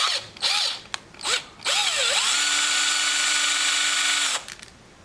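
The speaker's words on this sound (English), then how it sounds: "I'm using a 5/16 drill bit and just drill out the helmet a little more." Power drill fitted with a 5/16 bit boring into a plastic toy clone trooper helmet: a few short whirring bursts, then one sustained high drilling run that stops abruptly, close and loud.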